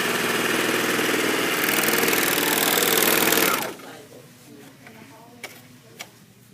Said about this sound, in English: But the JUKI serger makes a beautiful rolled hem.